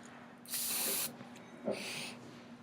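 Two short hissing bursts of aerosol spray, the first longer, the second briefer, separated by a quiet pause over a faint electrical hum.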